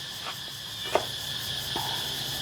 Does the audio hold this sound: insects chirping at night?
yes